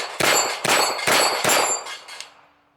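Five rounds of gunfire strike the steel plates of an AR500 plate rack in quick succession, each impact a loud, ringing metallic clang with a bright ringing tail that overlaps the next, the last hit softer and fading out.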